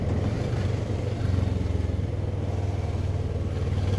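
A Kawasaki ER6n motorcycle rides through town, its engine a steady, close droning rumble with slight surges that runs unbroken for the whole stretch, with no talking.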